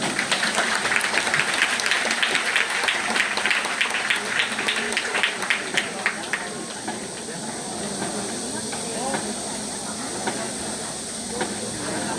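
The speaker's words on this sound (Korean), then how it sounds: "박수 부탁드리겠습니다." An outdoor audience applauds at an army training center military band event in Nonsan. The clapping is dense and loud at first, then fades into a softer wash of crowd noise with faint murmuring.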